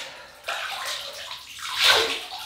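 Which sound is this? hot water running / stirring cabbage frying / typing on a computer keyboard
hot water running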